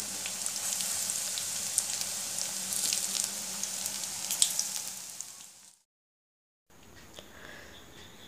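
Snacks fry in hot oil at home, a bright, close, continuous sizzle with small pops. It fades out into a second of silence, then returns fainter.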